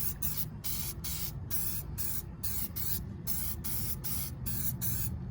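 Copper spray gasket sealant hisses from an aerosol can in quick repeated bursts with short breaks between them, close and fairly loud, while a car engine swap is under way.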